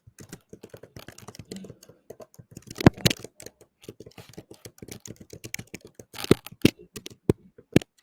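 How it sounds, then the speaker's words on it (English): Fingers type on a laptop keyboard in quick irregular bursts of crisp clicks and clacks, close and fairly clear, with louder key strikes scattered through and short pauses between runs. "Hey, we can really hear you typing."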